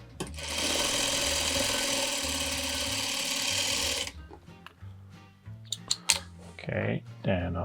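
A sewing machine runs in one steady, continuous stitching burst while sewing pieces of a curved log cabin quilt block, then stops, followed by soft handling clicks and brief speech.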